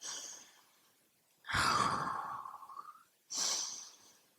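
Deep breaths during a vinyasa yoga flow: a long, loud, airy exhale sigh, then a shorter inhale, close to the microphone with quiet gaps between and no speech.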